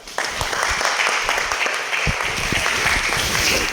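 An audience at a leadership and technology conclave in Belgaum breaks into loud, sustained applause, a thick and even patter of many hands clapping together for the whole stretch.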